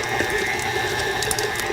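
A stand mixer creams two sticks of room-temperature unsalted butter, producing a continuous close mechanical whir with a fast, rattling, ratchet-like texture throughout the short stretch.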